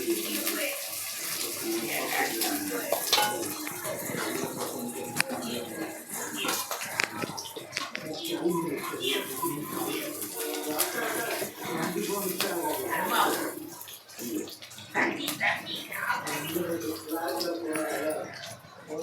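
Sliced large onions go into hot oil in a pan for biryani, giving a loud, rushing, watery sizzle that carries on under a person talking nearby.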